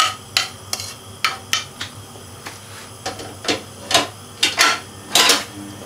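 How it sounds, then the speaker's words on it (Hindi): A spoon stirs cream of corn into a pot of chicken corn soup, giving irregular scraping and clinking strokes against the pot, close and fairly clear with no talk. "दोबारा मिक्स कर लेते हैं।"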